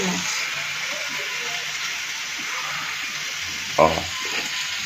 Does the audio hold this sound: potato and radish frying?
yes